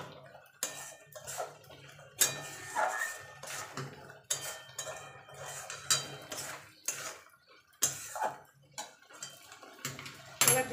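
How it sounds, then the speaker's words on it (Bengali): Grated carrot halwa with ghee being stirred in a pan, irregular scraping and clinking of a spoon against metal in bursts with short pauses, fairly quiet and close, with no speech. "এবার ভালো করে নেড়ে দেবো"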